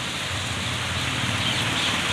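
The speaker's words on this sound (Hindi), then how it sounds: "देखिए बारिश तेज हो रही है," Rain pours steadily outdoors as a dense, even hiss of drops hitting surfaces, close and continuous with no pauses.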